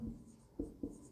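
Chalk or marker writing on a classroom board, a few short scratchy strokes in a brief quiet sequence, close by with no voices.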